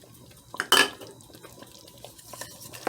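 Beef pot pie filling with peas being stirred in a pot, a brief loud scrape of spoon against the pan followed by softer, scattered clinks and stirring noises, fairly close and with no talking.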